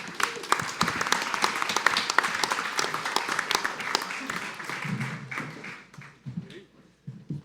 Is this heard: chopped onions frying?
no